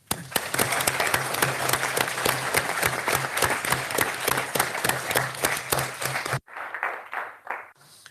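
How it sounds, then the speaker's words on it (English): An audience at a cancer foundation's official launch applauds warmly, steady dense clapping for about six seconds before it cuts off and a few scattered claps fade out. "So please give a warm applause to Vice President Skinas for his speech"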